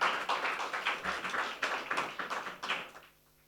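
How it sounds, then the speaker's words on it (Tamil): A room of young people at a youth gathering claps together in brisk, fairly close applause with a loose rhythmic pulse, which fades out near the end. "எல்லாரும் கைத்தட்டும்."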